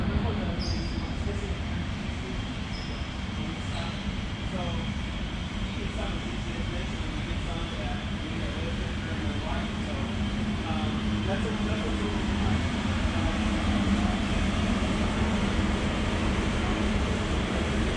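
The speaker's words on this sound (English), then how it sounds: "So here's the air compressors, dryers, holding tanks back in this area." Shop air compressors with dryers and holding tanks running in a large collision repair shop, a loud continuous mechanical drone and hum filling the space, with people talking over it.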